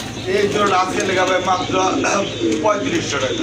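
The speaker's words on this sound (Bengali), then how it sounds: "এখানে কিন্তু বিগ সাইজের এক জোড়া বোম্বাই কবুতর দেখতে পাচ্ছেন" A large pair of Bombay pigeons coo softly in a breeding loft, their low repeated calls running beneath someone talking throughout.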